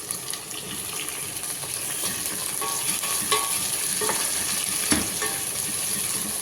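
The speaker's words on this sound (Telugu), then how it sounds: "అలాగే టమాటాలు కూడా వేసుకుంటాము." Tomatoes added to softened onions in a pan for a dried capsicum curry sizzle loudly and steadily, with a few scraping stirs and a sharper clatter near the end, close up and without speech.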